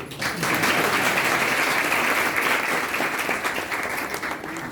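An audience at a religious discourse class claps together in a sustained, even burst of applause that starts abruptly and holds steady for several seconds.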